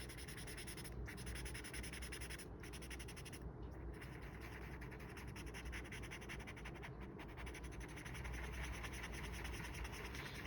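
A graphite pencil scratches softly on paper in continuous circular shading strokes, close and faint, with a steady rubbing texture and brief pauses.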